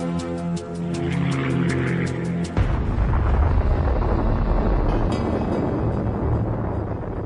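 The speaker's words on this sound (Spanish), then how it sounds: "Lester Tenney ve la explosión." The atomic bomb explosion over Nagasaki, a sudden deep roaring blast that cuts in after music and rumbles on loudly to the end.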